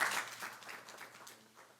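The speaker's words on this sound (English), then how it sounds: "y'all need to give her a clap" A town council meeting audience gives faint, short applause for a local business marking its 40th anniversary. The clapping tapers off quickly over a low steady hum.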